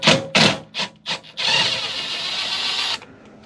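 Bolts are removed from a Chevrolet Silverado headlight, with a few short ratchet or driver bursts followed by a longer continuous whir of a power tool spinning a bolt out, close up with no talking.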